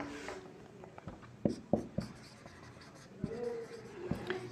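Pen scratching across paper while an answer is written by hand, with soft strokes and a few sharper taps close by and faint voice-like sounds in the background.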